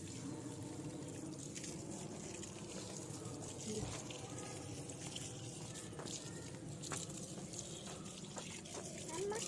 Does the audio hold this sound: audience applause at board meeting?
no